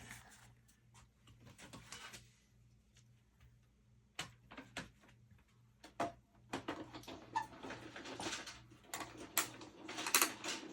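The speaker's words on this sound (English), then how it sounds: "I put this through my cut and emboss machine" A cut and emboss machine runs during card making, giving faint mechanical clicks, ticks and rattling knocks over a low steady hum, growing busier and louder toward the end.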